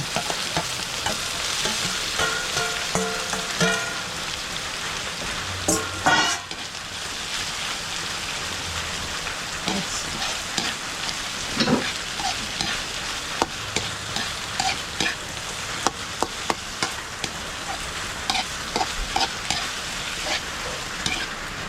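Two pieces of freshly caught octopus sizzle in a pan, a continuous hiss of frying broken by irregular spatters, pops and stirring scrapes, fairly close and without talk.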